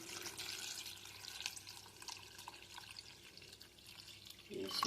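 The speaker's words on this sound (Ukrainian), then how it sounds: "І заливаємо це сирою водою." Cold water pours steadily into a pot of beetroot for borscht with a soft, rushing splash, fairly quiet, ending in a brief louder clatter.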